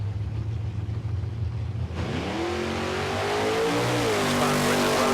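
Drag racing cars at Calder Park on a Friday night run down the strip, a loud, steady engine drone that swells as the cars accelerate away, its pitch climbing through the gear changes.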